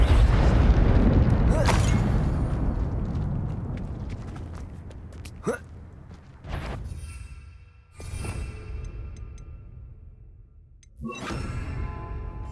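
Fire-spell explosions from the Confringo curse in the video game Hogwarts Legacy: a heavy rumbling boom at the start, then several sharper blasts spaced a few seconds apart, fairly loud over a low background.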